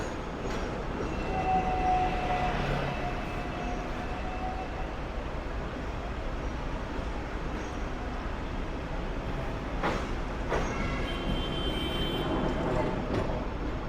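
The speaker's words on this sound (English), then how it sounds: "And we're out by the trams." Hong Kong trams run along a city street in a continuous rumble of rail noise, with traffic and street ambience throughout and a few brief screeching rises near the end.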